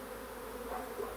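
Honeybees hum around a hive in a steady, soft drone, many wings buzzing together at a constant low pitch.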